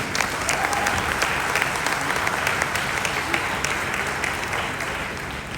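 Audience at a live product training event breaking into loud applause, many hands clapping in a dense, sustained wash that fades slightly toward the end.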